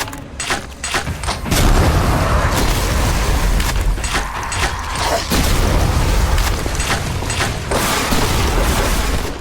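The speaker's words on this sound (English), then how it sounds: "This might generally be the most powerful shotgun that I have ever fired in a video game ever." A quadruple-barrel shotgun fires in a Doom mod video game: loud, heavy booming blasts, close and repeated, overlapping into a dense roar of gunfire and mechanical clatter.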